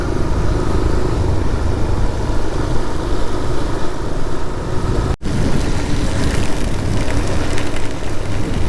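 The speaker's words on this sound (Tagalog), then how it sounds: "Ulan na nga." Heavy rain falls outdoors near a bridge over high, strong-flowing water, a loud, dense and continuous hiss with no voices.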